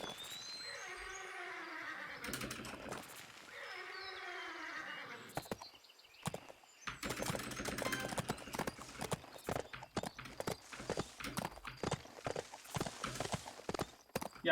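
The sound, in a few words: horse hooves clip-clopping in Bibi & Tina video game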